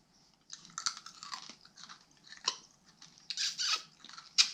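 Close-up chewing of a sticky Hawaiian plum snack with a pit inside, heard as soft, wet crunching bursts in uneven bites with brief pauses between them and no talking.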